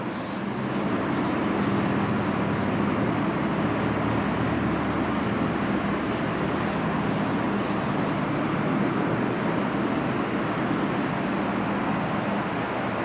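Rapid, steady rubbing scrubs writing off a classroom board, a dense scratchy swishing with quick back-and-forth strokes that runs continuously and close before stopping near the end.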